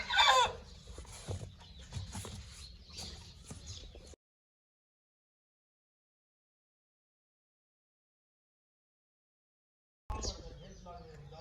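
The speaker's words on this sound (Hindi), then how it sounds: "ये वाला मुर्गा है" Clucks from a rooster being boxed in a carton for cargo shipping, sharp clucking bursts at the start and then softer rustling, with someone talking nearby, a long silent gap, and more low noise at the end.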